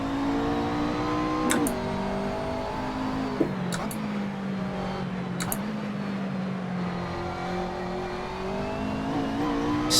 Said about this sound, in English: Rear tyres squealing a little bit for grip